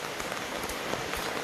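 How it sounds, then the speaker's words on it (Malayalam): Heavy rain pours steadily on surfaces along a road in Kerala, a close, even patter with scattered heavier drops and no voices. "ഭയങ്കര മഴയാണ് ഗൈസ്, ഭയങ്കര മഴ"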